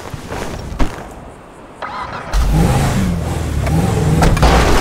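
A Mercedes Maybach limousine's engine starts up in GTA V, a cranking burst followed by a loud, steady, close rumble with rising revs.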